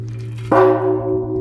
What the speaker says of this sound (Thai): อันนี้เป็นระฆังสวรรค์นะะ